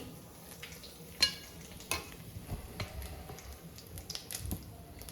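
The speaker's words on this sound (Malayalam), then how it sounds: "ഇനി നമുക്ക് ബാക്കി ഇരിക്കുന്ന ഇറച്ചിയും കൂടെ നമുക്ക് എണ്ണയിലിട്ട് ഒന്ന് പൊരിച്ചെടുക്കാം" Duck meat frying in oil in a cheenachatti for a Kerala duck roast, a soft sizzle broken by scattered clinks and stirring scrapes, close and fairly quiet, without speech.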